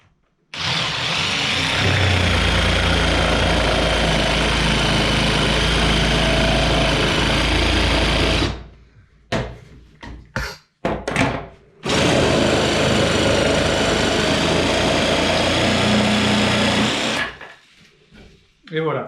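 Cordless TECCPO jigsaw on pendulum setting 2 cutting a fir board with a guide, a loud, close, buzzing saw run of about eight seconds, a brief stop-start stutter, then a second long cut.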